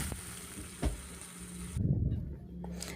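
Boiled potatoes go into a frying pan with a brief thump and a rush of sizzling and stirring, near and moderately loud, followed by a quieter sizzle.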